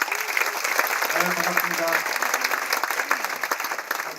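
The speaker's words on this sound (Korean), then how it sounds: "박수로 모시겠습니다" A lecture audience applauds to welcome a speaker, steady clapping throughout while someone speaks briefly over it.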